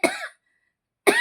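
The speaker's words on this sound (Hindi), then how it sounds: "बहुत ज्यादा खांसी होगी" Two bursts of coughing from one person, the first lasting about a third of a second and the second coming after a pause of roughly three quarters of a second, both close and fairly loud, with silence between.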